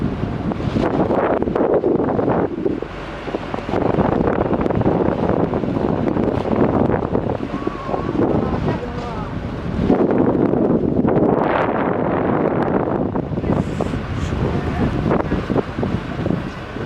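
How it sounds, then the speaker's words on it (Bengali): Strong wind buffets over rough river water in the Sundarbans, a loud, gusting roar with microphone wind noise that swells and eases across the span, without clear speech. "যেরকম হাওয়া দিচ্ছে, হাওয়ার সাথে সাথে জলের উত্তাল পাতাল।"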